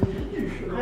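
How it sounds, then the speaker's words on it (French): A bird gives cooing calls inside an abandoned building, heard close by and partly under people talking. "Non, c'est pas une chauve-souris, c'est un oiseau, je crois."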